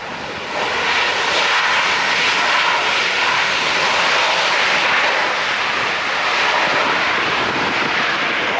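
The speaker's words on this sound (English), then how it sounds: "Looks like an A321 Neo coming in American Airlines" A American Airlines Airbus A321neo jet arriving, a steady broad roar of engine noise that holds loud and even from start to finish after a brief quieter opening, with no talk.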